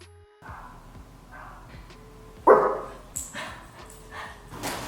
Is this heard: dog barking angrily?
yes